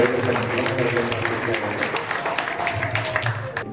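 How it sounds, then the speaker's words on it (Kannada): Clapping from an audience at an inauguration ceremony, moderately loud and thinning toward the end, mixed with low background murmur and a faint hum. "ಚಪ್ಪಾಳೆ ಮೂಲಕ ಅವರನ್ನು ಅಭಿನಂದಿಸಬೇಕಾಗಿ"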